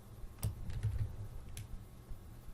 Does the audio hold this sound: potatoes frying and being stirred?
no